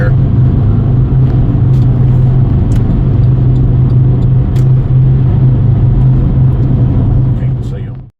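A car cruising at almost 80 miles per hour on a highway gives a loud, steady low road-and-engine roar that holds constant for several seconds before cutting off abruptly.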